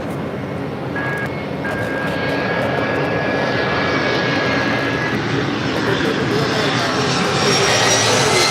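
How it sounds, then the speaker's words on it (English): A Lufthansa Airbus A340-300 jet arriving at LAX roars steadily, growing louder over several seconds as it approaches the airport, with a faint whistling engine whine above the broad rumble. "Lufthansa Flight 450 coming in from Frankfurt, the A340-300"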